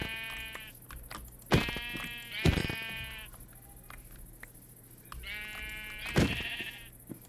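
Minecraft sheep being stabbed with a sword, giving three loud, wavering game bleats, each answered by a sharp hit, over a faint steady background hum.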